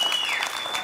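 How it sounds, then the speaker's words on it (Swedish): Audience applause on a live TV bingo show, a dense, steady burst of clapping from a studio crowd, with a tone held underneath. "Nu tar vi en hejdundrande applåd för Lars Jansson."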